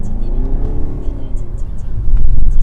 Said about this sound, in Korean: 이런 엔진음도 인위적으로 만들어주는 세팅을 했다고 합니다